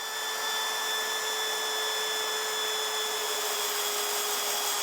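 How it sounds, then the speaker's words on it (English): A power drill bores small pilot holes in the metal of a 2015 Toyota 4Runner for a Front Runner ladder install, giving a steady, even high whine held for several seconds at moderate volume with no talk over it. "Now we'll start by drilling small pilot holes"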